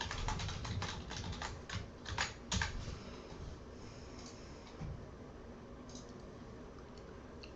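Keys clacking on a computer keyboard as a password is entered, a quick burst of close, dry taps in the first few seconds, then sparser scattered clicks over a low steady background hum.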